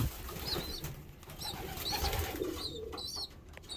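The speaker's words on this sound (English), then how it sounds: "He's such an aggressive little pigeon." A tame, aggressive pigeon cooing close by in a few short, soft throaty phrases, with faint rustling between calls.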